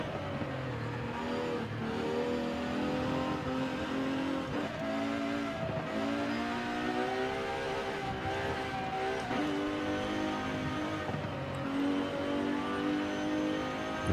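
Simulated car engine revving on the Goodwood hillclimb course in Forza Horizon 5, a sustained engine drone that rises and dips through gear changes, with occasional tire squeal, steady and alone for the whole stretch.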